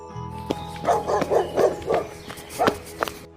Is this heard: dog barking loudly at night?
yes